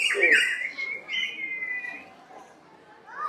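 Birds calling at a national zoo in Bangladesh, with a myna close by: a few short chirps and whistled calls, fairly near and moderately loud, with faint background noise.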